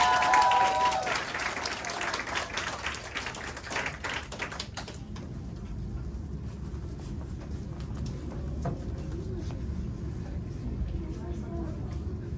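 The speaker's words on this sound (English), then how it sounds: "Round of applause for Adina Salini." An audience at the Malaysian National Poetry Slam 2023 applauds a secondary-category participant, a dense burst of clapping that fades after a few seconds into lighter scattered claps and room noise.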